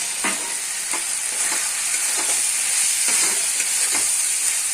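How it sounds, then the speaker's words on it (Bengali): Steady sizzling from a hot pan of spices and fried potatoes, with a spatula scraping and stirring roughly once a second, loud and close. "মশলাটাকে ভালো করে একটু কষিয়ে নেব"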